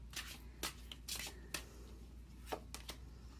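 Tarot cards being shuffled by hand, a series of soft quick riffles and slaps at close range, quiet against a low steady background hum.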